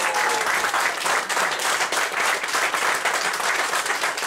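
Sustained, dense applause from a theatre audience at a comedy mind-reading show, greeting a successful mentalism card trick; steady and loud throughout with no voices over it.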